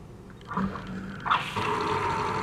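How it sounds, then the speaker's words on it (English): Water runs from a newly installed kitchen faucet into a bucket, starting with a brief gush and then settling into a steady, fairly loud stream with no voices. "We're going to turn on the faucet."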